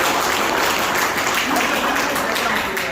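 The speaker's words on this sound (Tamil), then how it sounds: "ஓகே, நல்ல ஒரு உற்சாகமான கைத்தட்டலோட இது அழகான." Loud, continuous audience applause at a Tamil stage event featuring a dance, a thick wash of clapping that holds steady for three seconds and fades only slightly at the end.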